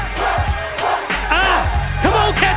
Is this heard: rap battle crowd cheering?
yes